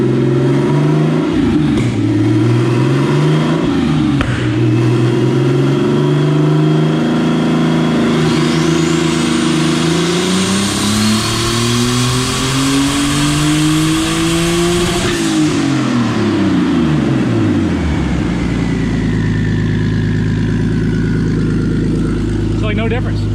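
A turbocharged 2.5 liter ZKart engine revs on a dyno, climbing through several loud sweeping pulls before dropping back to a deep idle rumble, with voices underneath.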